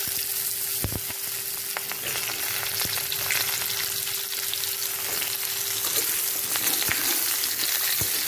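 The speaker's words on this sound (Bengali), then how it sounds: "আমি একইভাবে কাঁচকলাটা একটু ভেজে নেব।" Raw green banana pieces fry in oil with carrots, giving a steady, dense sizzle up close for over eight seconds, broken by occasional utensil knocks and stirring scrapes.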